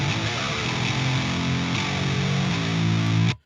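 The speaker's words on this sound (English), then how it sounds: "The first is this more mid-scooped sound." A mid-scooped, heavily distorted metal guitar plays a dense chugging riff, loud and continuous, before cutting off abruptly at the end.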